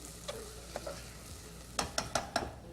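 An egg fries in a pan on a home range in a breakfast kitchen, a faint steady sizzle punctuated by a few soft scrapes and then four quick sharp clicks or taps near the end, with no talking.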